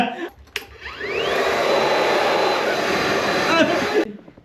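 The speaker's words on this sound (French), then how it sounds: "il y a un autre sèche-cheveux ici, c'est génial" A hair dryer switches on and blows with a steady, loud whooshing roar and a rising whine, runs for about three seconds, then cuts off, heard up close in a lodging room in Belgium.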